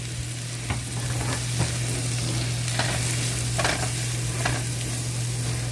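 A spoon stirs chicken and rice in a hot pan, scraping and clinking a few times over a steady close sizzle of frying, with no talking.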